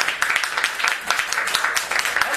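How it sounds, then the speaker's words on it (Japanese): A small group claps together at a modest gathering, a brisk, even patter of hands that runs steadily without voices. "じゃあ町田君拍手。"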